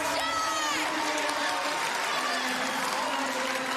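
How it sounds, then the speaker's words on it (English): Arena crowd at a women's team final of the world artistic gymnastics championships cheering and whooping loudly and steadily after a floor routine, a dense roar with shouts throughout. "Crowd trying to influence the judges a little bit."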